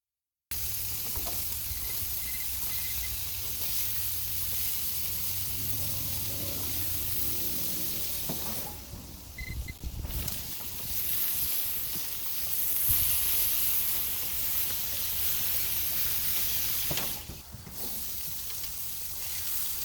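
Steaks sizzle in a pan while cooking well done, a loud, constant frying hiss with brief breaks and rustles along the way.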